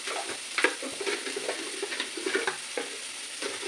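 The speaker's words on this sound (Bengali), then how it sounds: "পেঁয়াজটা একটু ভেজে দিয়ে নেবো" Chopped onion frying in a pan of hot oil, a steady close sizzle broken by the scrape and clatter of stirring, heard alone with no talk.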